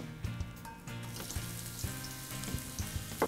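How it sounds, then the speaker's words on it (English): Half a chopped red onion frying in melted coconut oil over medium heat, a close, crackling sizzle with light stirring and scraping noises. "we're going to fry off half a chopped red onion."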